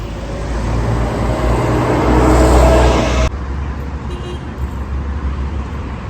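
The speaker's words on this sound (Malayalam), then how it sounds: "അപ്പം നമ്മളിപ്പോൾ ബസ് സ്റ്റോപ്പിൽ നിൽക്കുകയാണ്." Road traffic rumbles at a bus stop in Oman, a loud passing vehicle swelling up close before the noise drops to a steadier, quieter hum of cars.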